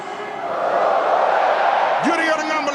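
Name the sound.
stadium crowd shouting the Aboriginal call out Go-wee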